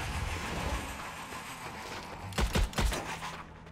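A short cluster of three or four gunshots in the co-op shooter game Strange Brigade, sharp and close, rising briefly out of a low background hum.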